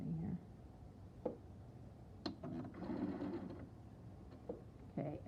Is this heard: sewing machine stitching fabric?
yes